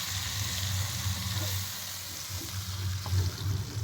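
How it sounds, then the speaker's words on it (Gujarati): Gravy sizzles and fries in a pan of Kathiyawadi-style kantola sabzi over a low flame, a soft, continuous crackle with a low bubbling hum underneath. "ગ્રેવીને આમાં આપણે એડ કરી દેવાનું છે અને ગેસને આપણે ધીમો જ રાખવાનો છે"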